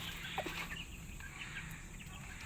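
A hen clucks in short, close calls against a steady outdoor background, brief and moderately loud, with no talking.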